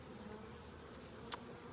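A settled swarm of honeybees makes a faint, steady buzzing hum that lasts throughout, with one brief sharp click near the end.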